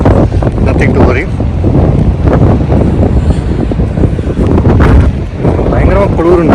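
Strong, cold wind blows across a beach by the sea, buffeting the microphone with a continuous rough rumble while people talk over it.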